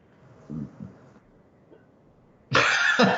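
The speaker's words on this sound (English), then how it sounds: "Did I just hear a corona cough?" A muffled cough or two in the background, then a louder, harsher cough close by.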